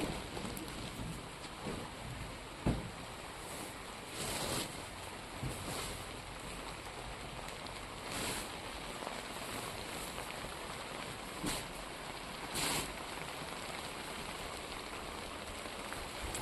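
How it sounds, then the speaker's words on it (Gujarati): Heavy monsoon rain pours down outside during a vehicle stop, a steady dense hiss of drops with scattered louder spatters and drips throughout, no voices. "વરસાદ ફૂલ ચાલુ છે અત્યારે"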